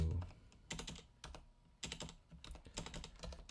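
Quick bursts of typing on a computer keyboard, close and fairly quiet, clustered key clicks in uneven rhythm with short pauses.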